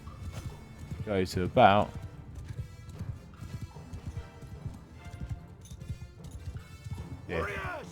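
Cavalry hooves drum in a dense clip-clop as horses gallop past during a Mount and Blade II Bannerlord battle, with loud whinnies and a crash along the way and someone talking over them.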